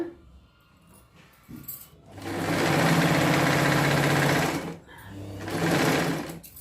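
Sewing machine stitching a patiala pant seam: a close, loud mechanical whir in two bursts, a longer run of about three seconds then a shorter one, with quieter handling sounds between.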